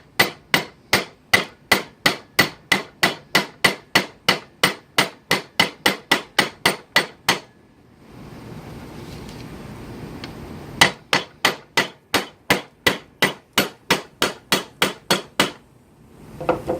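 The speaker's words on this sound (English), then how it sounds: "I'm going to peen this out just a little bit more." A hammer peens pins on the bolsters of a handmade chef knife in rapid, evenly spaced metallic strikes. A short pause breaks the run of blows before they resume, sharp and close.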